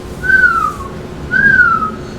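A person whistles to imitate the wheeze of asthma, making two clear, sliding whistles that fall slightly in pitch, separated by a short pause, close and alone.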